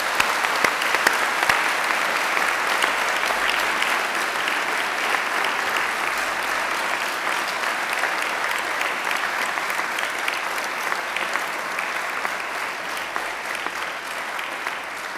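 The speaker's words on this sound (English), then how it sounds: "I invite you to give them a mighty round of applause of thanks" Graduates at a graduation ceremony give a long, loud round of applause to their family and friends, dense even clapping from a large crowd filling the hall with no break.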